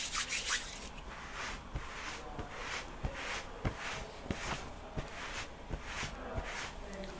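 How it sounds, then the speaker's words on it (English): Lotion being rubbed onto the skin of a wrist, close, soft rhythmic swishing strokes repeating about once every half second, quiet and intimate. "I'm just gonna rub a little bit of this on your wrist here."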